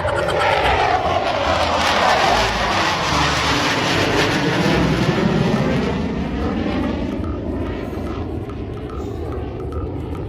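A Garuda airplane gives a loud, steady engine roar whose pitch sweeps slowly downward and fades slightly over about ten seconds.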